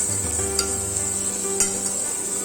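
Poori masala stirred in a frying pan, a constant dense sizzle with a couple of faint utensil taps against the pan, steady and close with no speech.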